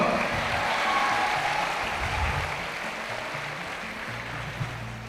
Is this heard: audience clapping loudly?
yes